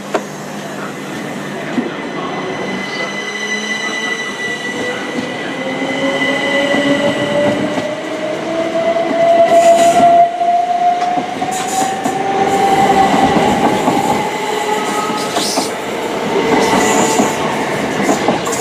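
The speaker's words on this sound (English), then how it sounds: "Parting now is a southern service to London Victoria." A Southern electric train departs Clapham Junction for London Victoria, its motors whining up in pitch as it accelerates, wheels clattering and squealing loudly nearby on the rails.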